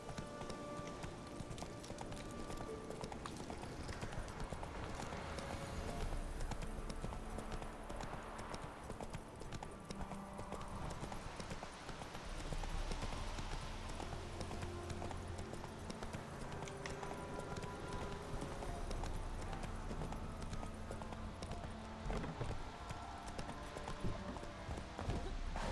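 Horse hooves clip-clop steadily in The Witcher 3 video game, a continuous rhythmic trot mixed with in-game ambience and occasional soft neighing, moderately loud throughout.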